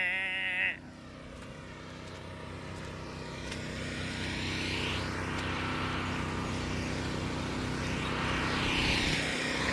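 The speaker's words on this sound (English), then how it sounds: "I had to get out the generator because I wanted the sump pump to run" A portable generator runs outdoors in the rain to power a sump pump, giving a loud, steady engine drone that fills the whole stretch after a brief tonal sound at the start.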